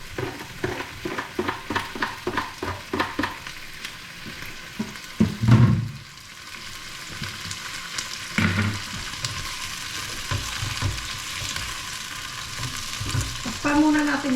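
Tomatoes fry in a pan with a steady close sizzle, stirred with rhythmic scraping taps at the start and a couple of heavier clunks later, with no voices.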